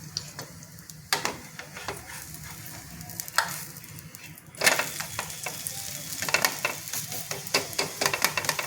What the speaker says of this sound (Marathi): मग याच्यावर आपण थोडंसं तेल टाकू आणि मग उलटी करू बाजू।